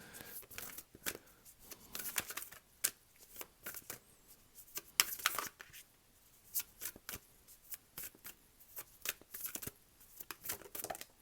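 Tarot cards being shuffled by hand, with repeated crisp riffling and slapping bursts of paper on paper, fairly close and steady over several seconds, no talking.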